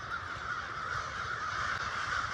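Hundreds of crows caw in a graveyard, their harsh calls overlapping into a dense, continuous chorus that stays loud and steady throughout, with no voices.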